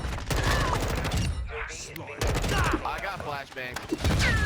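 Sustained automatic fire from an M4 rifle in the Modern Warfare video game crackles densely for several seconds, loud and close, with a voice talking over the shooting.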